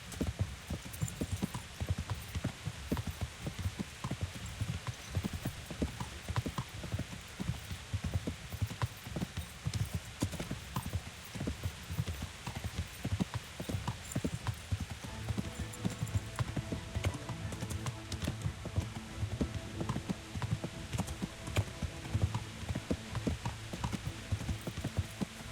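A horse is ridden in the medieval game Kingdom Come Deliverance, its hooves clip-clopping in a steady rapid gait for a long stretch, loud and close, with a faint hum of other game sound beneath and no talking.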